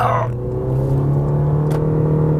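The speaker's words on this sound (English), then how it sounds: "Here's a quick example of my acceleration." A 2019 Toyota C-HR accelerates, its engine giving a steady, close droning hum that holds at a constant loudness throughout, with no one talking.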